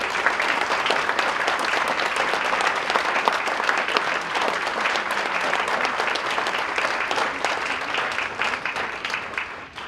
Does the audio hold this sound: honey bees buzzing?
no